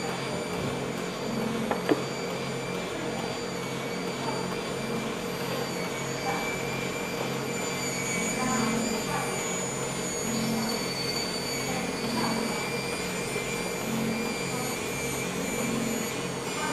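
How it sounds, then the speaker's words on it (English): The vacuum motor of a desktop VelaShape V9 body-contouring machine hums steadily and evenly throughout, a constant mechanical drone with faint intermittent clicks and soft pulses layered on top. "this handle has the vacuum function"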